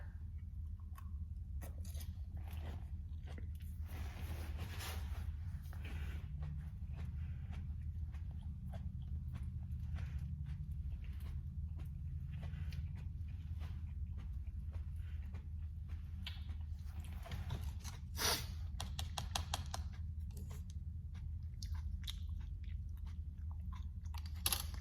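Someone chewing a Hulk hot pepper, with soft, irregular crunching and biting sounds close to the microphone over a low hum, alone with no talking.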